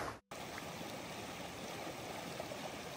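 A mountain stream near the Fanes waterfall in the Dolomites rushes steadily, a continuous broadband wash of flowing water, close and fairly quiet, with no voices.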